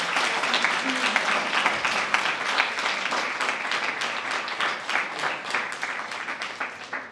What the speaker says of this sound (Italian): Facciamo un applauso di nuovo